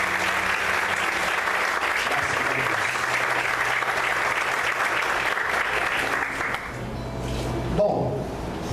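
A church congregation claps together in a loud, sustained burst of applause that holds steady for several seconds, then fades out with a few scattered claps at the end.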